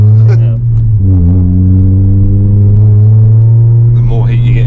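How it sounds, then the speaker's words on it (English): A loud FN2 Honda Civic Type R engine drones with a strong, steady low tone, shifting pitch slightly as it revs up around the middle and again near the end. "it's a very loud Civic."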